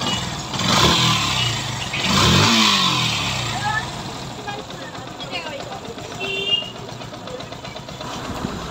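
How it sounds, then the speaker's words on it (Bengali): A Yamaha FZ-S V3 BS6 motorcycle engine revs up in two loud swells before settling into a rougher idle, heard close by, with a voice talking over part of it. "এই তো বাইকটির সাউন্ড শুনলেন"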